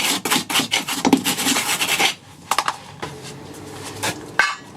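Rust being scrubbed off a bolt on a Porsche 911 996 Carrera 4S, a fast rasping scrape in rapid repeated strokes for about two seconds, then a few scattered scrapes and clicks, close up with no talk.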